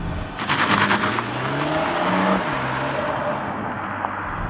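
A 2024 Alfa Romeo Tonale Veloce plug-in hybrid launches hard without launch control, its engine rising loudly into a sustained strained roar with tire and wind noise, close and continuous throughout.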